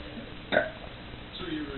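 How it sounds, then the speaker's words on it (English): A single loud burp erupts during a burping contest, a short rough burst followed by quieter voices nearby. "World's longest burp."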